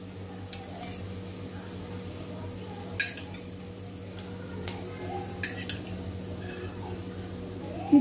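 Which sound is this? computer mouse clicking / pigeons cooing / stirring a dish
stirring a dish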